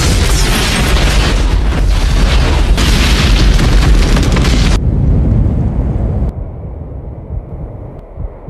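A bomb blast in a film scene, a continuous, heavy roaring explosion that rumbles loud and dense for several seconds, then cuts to a quieter lingering wash of debris and wind.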